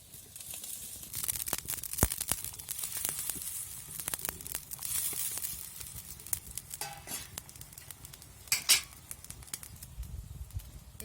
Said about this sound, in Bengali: তরকারিতে জাল উঠে গেছে, এবার আমি বেগুনগুলো দিয়ে দেবো।